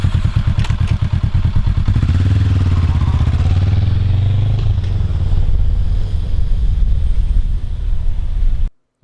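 A 2014 Honda NC700X motorcycle engine drones loud and close throughout with a steady, rumbling rhythm and wind buffeting, then cuts off abruptly near the end.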